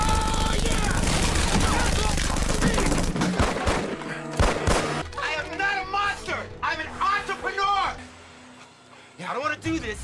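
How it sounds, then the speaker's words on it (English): Rapid, dense gunfire in a film scene's boat chase, starting as a loud continuous fusillade and breaking into scattered bursts mixed with shouting voices and music. "stop shooting at us"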